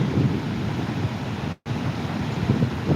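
Flooded Manjara river water rushing in a continuous loud roar, broadband and steady with wind buffeting the microphone and a brief dropout midway.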